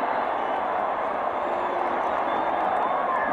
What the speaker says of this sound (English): And Texas is applauding as if the penalty's on Brigham Young.